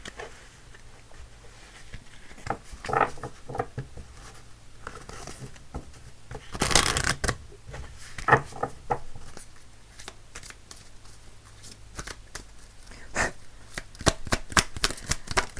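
Tarot and oracle cards being shuffled by hand, repeated crisp riffling bursts and soft slaps close by, louder flurries near the middle and end, with no speech.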